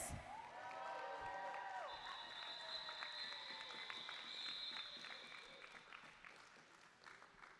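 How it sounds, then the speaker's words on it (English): A roller derby bout's audience cheers and applauds loudly and steadily, whoops and whistles rising over a dense crowd roar that slowly fades toward the end. "one last big cheer from our audience"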